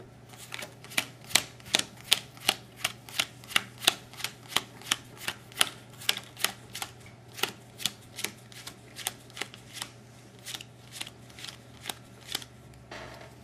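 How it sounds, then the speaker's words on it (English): Playing cards dealt one at a time onto a table into three piles, a long run of crisp, evenly spaced snaps and flicks, close and fairly quiet, with no talking. "Now, I'm going to lay out 3 piles of cards."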